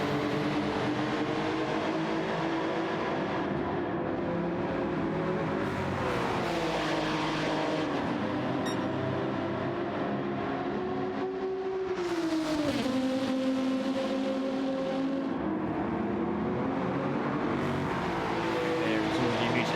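Race car engines in a WTCC sim racing game round at Lago Maggiore, a Corolla on board, a continuous loud engine roar rising and falling in pitch through gear changes and corners, under commentary.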